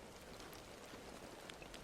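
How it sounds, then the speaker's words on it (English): Soft rain pattering steadily, a faint, even hiss of drops with scattered light taps throughout, no talking. "Outside, the soft patter of rain began."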